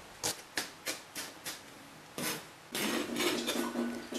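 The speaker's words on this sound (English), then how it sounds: "Cut up the spring onion" Knife chopping spring onion on a cutting board: a run of crisp, evenly spaced cuts, then a brief pause and a burst of faster, denser slicing, close and fairly quiet.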